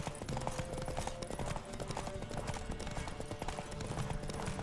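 Rapid galloping hoofbeats of a horse in The Witcher 3 during a race, a steady driving clip-clop rhythm close up, layered with game sound effects.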